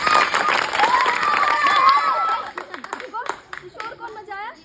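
Children clapping together in a school classroom, a dense burst of applause mixed with shouts and chatter that fades after a few seconds into scattered voices and an adult speaking.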